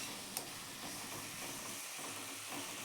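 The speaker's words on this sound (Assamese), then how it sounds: "এতিয়া বিলাহীখিনি ভাজি ল'ম।" Chopped raw tomatoes, three of them, frying in a pan for an Assamese taro and fish curry, giving a soft, steady sizzle and hiss with a faint stir, quiet throughout and free of talk.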